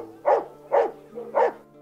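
Dogs at the Best Friends Dogtown sanctuary near Kanab, Utah, bark three times in a steady rhythm, each bark clear and moderately close with no talking.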